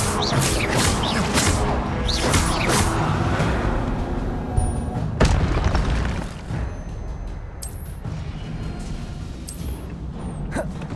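Incendio fire spell cast in a video game, heard as repeated loud, crackling booms and crashing impacts over a dense, continuous roar, with sharp bursts at irregular intervals.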